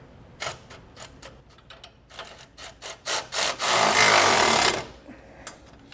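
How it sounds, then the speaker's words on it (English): Hitch bolts are tightened with a 3/4 inch socket and wrench: a run of quick ratcheting clicks in short bursts, building to a louder continuous rattle before stopping, close by and with no talk. "I'm just using a 3/4 socket and a 3/4 inch wrench"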